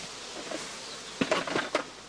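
Honeybees evicted from a skep hive buzz softly nearby, with a few brief taps and flutters breaking through the low drone.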